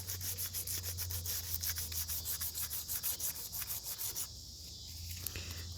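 Steady rhythmic hand sanding of a curved transmission fluid cooler cowl without a sanding block, quick back-and-forth strokes rasping close by, with a low hum underneath; the strokes stop near the end.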